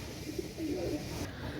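Pakistani Rampuri male pigeons give a few soft, low coos, faint against a light background hiss.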